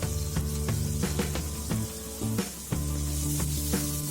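Onions and chilies frying in oil with turmeric powder, a loud steady sizzle close by with a few stirring scrapes and a faint tonal hum beneath, and no talking.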